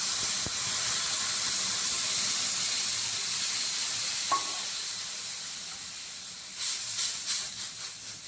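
Water poured into a hot pan of dried shrimp (sode) curry gives a loud, steady hiss of steam that slowly fades, with a few brief clatters near the end.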